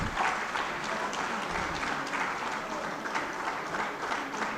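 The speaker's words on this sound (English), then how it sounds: "I request you all to cheer the participants with their claps." An audience at a company vigilance awareness week valedictory function applauds the award participants, steady dense clapping filling the room for the whole stretch, moderately loud and even.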